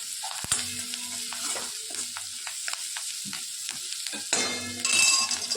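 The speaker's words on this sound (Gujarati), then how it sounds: "મરચાં અને ડુંગળી થોડોક શેકાઈ જાય" Chillies and onion fry in a pan with a steady broadband sizzle, broken by clinks and scrapes of a spoon stirring, with a louder burst of sizzling near the end; no one speaks.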